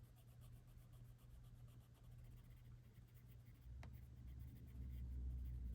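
Colored pencil from a Shuttle Art 260 set scratching and rubbing steadily on paper while blending colors for a small leaf, a continuous close, soft scribbling texture with no speech.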